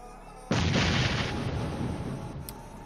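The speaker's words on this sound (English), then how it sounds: "we got somebody tossing nades" A grenade blast in PUBG Mobile hits suddenly after a quiet half second and is loud and close. It leaves a broad, booming roar that slowly decays over the next two seconds. No voices are heard.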